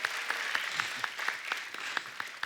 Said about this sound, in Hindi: पागलपंती के लिए जोरदार ताली हो जाए